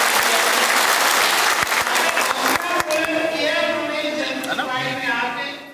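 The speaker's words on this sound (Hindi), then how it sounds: "एक जोरदार तालियों के साथ उनके आने के" A crowd at a Van Gujjar gathering in Saharanpur applauds to welcome a member of parliament, with dense, loud clapping that thins and fades toward the end.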